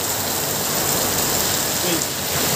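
Heavy rain pours down steadily during a downpour, a loud, dense hiss of water drumming on surfaces that stays constant throughout, with a faint voice briefly audible under it.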